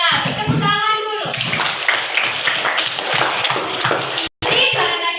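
Young children in a classroom lesson clap their hands together in a dense, lively burst that fills the room, with a brief gap near the end before the clapping resumes.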